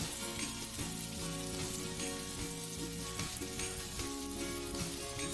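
Mung dal and chhena pitha dumplings fry in hot oil, giving a dense, continuous sizzle that stays loud and even throughout, with no voices.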